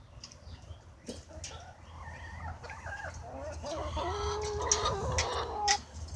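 A small flock of chickens clucks and murmurs close by in the morning, with overlapping short calls growing busier as the birds gather.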